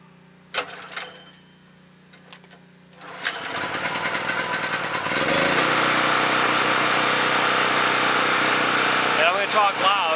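A portable electrical generator engine coughs through a pull-start, then catches and settles into a steady loud running drone that continues to the end, close by.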